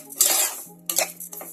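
Sugar stirred in a metal pan on the stove, with a few sharp metallic scrapes and clinks of a spoon against the pan in separate bursts, close and clear, with no talk.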